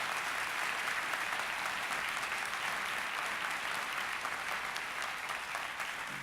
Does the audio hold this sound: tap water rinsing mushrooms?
no